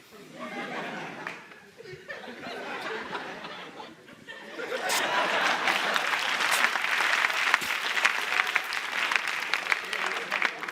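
An audience at a French comedy show gives scattered claps and chuckles under someone speaking, then bursts into loud, sustained applause mixed with laughter.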